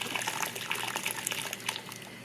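Dirty brown water draining out of a home steam heating system after a new valve handle was fitted, a steady close trickle and splash lasting a couple of seconds without speech.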